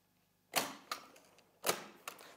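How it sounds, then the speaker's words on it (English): A staple gun fires into a cardboard target twice, each time with a sharp snap followed by a lighter click. The shots are close and distinct, with quiet in between. "Again, flip the stapler."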